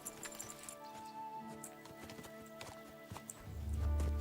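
A horse's hooves clip-clop in the video game Kingdom Come: Deliverance II, a steady close rhythm of hoofbeats over a soft musical bed, with a low rumble swelling near the end.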